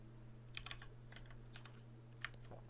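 Quiet keystrokes tap on a computer keyboard in small irregular bursts over a low steady electrical hum.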